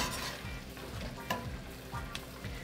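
Meat sizzling and frying in a pot along with bacon for beef bourguignon, a dense continuous crackle and hiss, close and fairly loud, with a couple of brief stirring knocks.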